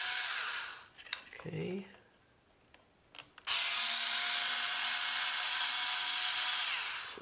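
A Torx screw is driven out of a Corvette C8 steering wheel with a power driver: a loud, steady high-pitched whirring burst, a pause with brief rubbing and clicks and a short spoken word, then the whir starts again and runs on.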